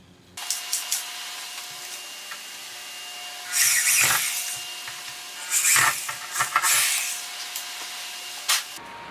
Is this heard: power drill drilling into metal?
yes